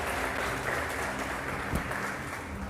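A church congregation applauds during an evening worship service, a dense, continuous wash of clapping that holds steady for the whole stretch with no voices over it.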